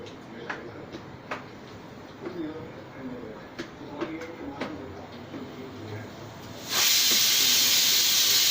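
A kitchen pressure cooker cooking eggplant and potato curry suddenly releases a loud, steady burst of hissing steam near the end, after a stretch of quieter kitchen sounds with light clicks and a voice talking.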